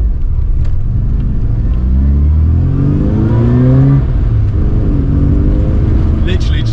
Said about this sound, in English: Sam knocked it out of the park with the exhaust on this car.